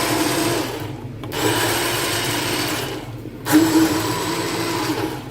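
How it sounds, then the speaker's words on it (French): A blender mixes tomato sauce for spaghetti bolognese, whirring loudly and steadily with brief cut-outs as the motor is stopped and restarted. "maintenant nous pouvons mixer la tomate"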